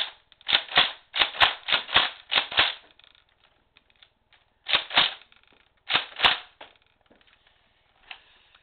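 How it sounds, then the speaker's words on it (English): A Nerf N-Strike Raider CS-35 blaster fires foam darts in quick bursts of sharp snapping pops, a rapid string of about eight shots and then a few scattered ones, close and loud with quiet gaps between them. "I'm just gonna shoot a couple more darts."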